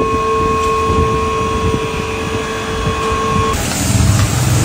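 A car lift in an auto garage raising a car, a steady loud mechanical drone with sustained tonal whine that shifts abruptly near the end, no talking.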